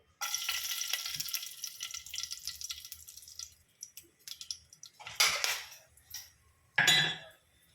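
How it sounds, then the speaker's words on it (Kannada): A piece of cinnamon and cloves dropped into heated oil, a fine crackling sizzle for the first few seconds, fading, then two louder bursts of spitting and clatter toward the end. "ಎಣ್ಣೆ ಕಾದಿದೆ. ನಾನಿಲ್ಲಿ ಒಂದು ಪೀಸ್ ಚಕ್ಕೆ ಮತ್ತು ಲವಂಗ."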